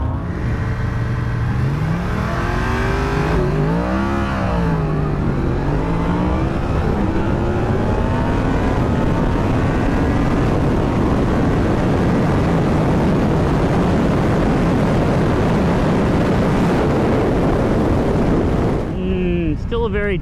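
A Yamaha MT-10SP motorcycle launches in a drag race, its engine revving loudly with rising and falling pitch sweeps, then roaring steadily under heavy wind noise for about twenty seconds.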